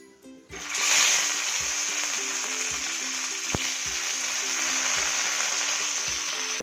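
Steady, loud sizzling of brinjal pieces deep frying in hot oil, a constant crackling hiss with occasional soft pops throughout, no talking.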